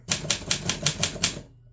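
Typewriter keys strike in a quick, even run of about seven clacks close by, typing in red through a two-tone ribbon with a tight, rigid mechanical action, then the sound stops abruptly.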